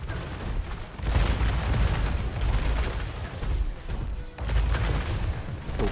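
Heavy gunfire from WR Frontiers combat robots lands in dense, rumbling bursts that are loud and close, broken by a couple of brief lulls, with no talking.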